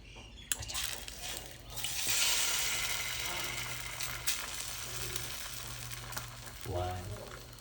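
An egg omelette fries in a pan with a steady, soft sizzle throughout, punctuated by a few clinks and scraping sounds.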